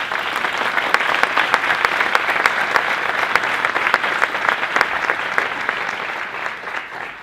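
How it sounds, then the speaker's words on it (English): Conference audience at a summit gives a sustained round of applause, with dense overlapping claps and a few sharper nearby hand claps, slowly thinning toward the end. "How about giving them a round of applause already?"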